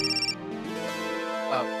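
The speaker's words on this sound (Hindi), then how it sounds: "अरे फोन आ गया।" A phone ringtone plays a short bright melodic tune, followed by a rising musical ring, near and fairly loud, with a hint of voice underneath.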